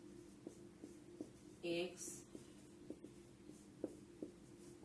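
Math being written on paper or a board during a higher math class, with faint repeated tapping and scratching strokes at a steady rhythm and a brief spoken word partway through.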